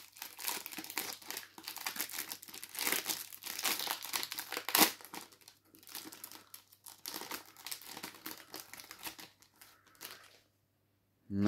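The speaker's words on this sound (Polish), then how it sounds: "najpierw otwieramy saszetki z XXL-kami" Foil sachets of FIFA 365 2024 football cards are torn open and crinkled by hand, a close, loud run of crackling and rustling bursts with short pauses, stopping briefly near the end.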